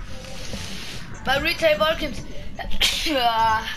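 A person sneezes sharply, then another loud sneeze follows, with brief talking in between.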